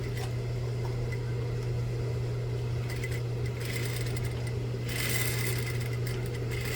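A sewing machine runs steadily and close while back stitching on a reversible vest, a constant motor whir with a rapid needle chatter that rises briefly near the end, and no voices.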